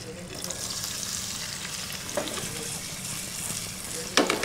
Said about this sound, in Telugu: సో ఇందులో మనం క్యాప్సికమ్ ని రోస్ట్ చేసుకుందాం.